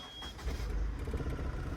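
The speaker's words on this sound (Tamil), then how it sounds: "அங்கே ஹிமாலயன் இன்ஜின் சவுண்டு தான் இங்கே நல்லாவே கேட்குது" A Himalayan engine in a modified Ashok Leyland Dost rumbles low and fairly faint, rising after a brief pause into a steady running drone.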